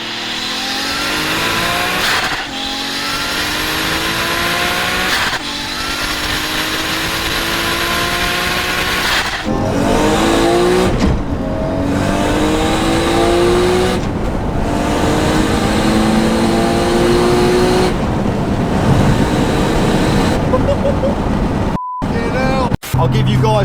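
A 650 horsepower Nissan R32 GTR with an R34 N1 engine and a massive T88 turbo revs and pulls through repeated gear changes, loud and continuous for the whole stretch, ending in a short sharp burst.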